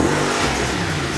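A 2014 Audi RS5 accelerating hard, a loud, close engine roar building over a brief burst.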